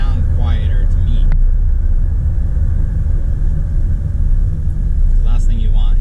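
A 1975 Chevy C10 long-bed pickup drives along, its engine and exhaust making a steady, deep rumble that stays constant throughout, with a voice speaking briefly over it near the start and end.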